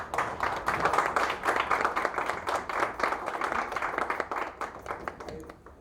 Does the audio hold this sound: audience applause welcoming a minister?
yes